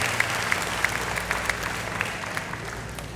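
An audience claps steadily for a bishop called forward to give a short message, a moderate crowd's applause with a few sharper claps standing out nearby.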